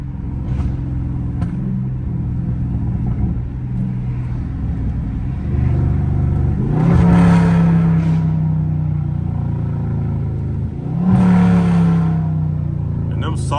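A Camaro ZL1 with an aggressive cam rumbles at a low idle-like burble while driving, with two rising rev blips from downshifts standing out over the steady engine drone, heard from inside the car.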